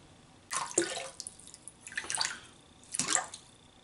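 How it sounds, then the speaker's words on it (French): Water runs from a tap into a sink in three separate gushes, each a rushing, splashing burst lasting under a second, heard close in a quiet room. "je vais aller remplir l'évier"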